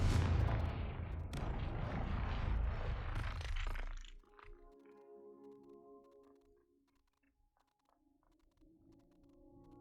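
A Confringo fire spell bursts in Hogwarts Legacy with a loud, roaring explosive blast lasting about four seconds, then cuts off abruptly, leaving faint ticking game sounds in near silence.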